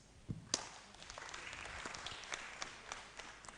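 Faint, scattered hand clapping from a small conference audience at a pro-life and pro-family side event, sparse claps over a quiet room hum, no speech.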